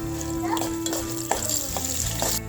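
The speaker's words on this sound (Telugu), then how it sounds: "జీలకర్ర, ఆవాలు వేసుకుందాం. శనగపప్పు మినపప్పు ఇప్పుడు వేసి కలుపుకుందాం." Cumin, mustard seeds, chana dal and urad dal crackle in hot oil as a constant close sizzle, with light scraping stirs and a faint steady hum in the background.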